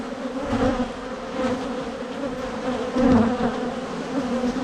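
Honeybees buzz steadily around a hive during a honey harvest, a dense, continuous, close drone with no talk over it.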